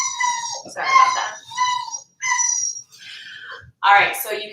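A pet dog, worked up indoors, lets out drawn-out barks that stretch into wavering howls, close and loud in several separate bursts.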